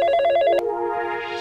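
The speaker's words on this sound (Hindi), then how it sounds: "फोन तो उठा लो" A telephone rings with a loud, bright electronic trill that cuts off abruptly, and a steady tone lingers after it, close and alone with no talk.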